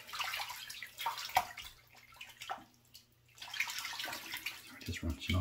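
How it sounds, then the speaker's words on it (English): Running water splashes and patters as hands are rinsed at a sink during shave preparation, a soft close wash that fades briefly in the middle and then returns with a few small knocks. "Just rinsing off the hands"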